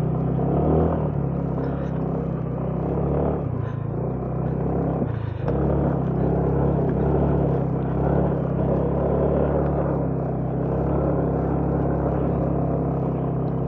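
A motorcycle engine growls low and steady up close as it climbs uphill on a ride near Dallao, Cordon Isabela, with a continuous rumble and a brief surge partway through.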